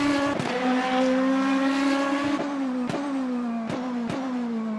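A Lamborghini race car in Le Mans Ultimate holds a loud, steady engine note with slight pitch sags, broken by several sharp shift cracks, with no talk over it.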